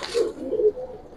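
A pigeon at a pigeon market gives a low, throaty coo in a couple of quick pulses, close and clear, with no talking over it.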